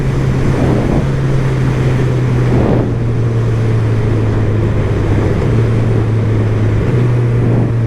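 A 2023 Honda CB1000R motorcycle engine runs underway with a steady low drone and small pitch shifts, heavily mixed with loud wind rush at riding speed.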